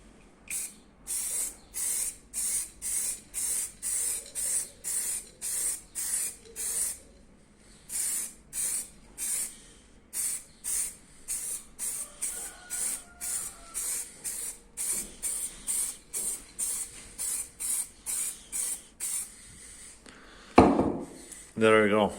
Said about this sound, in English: So let's just spray it.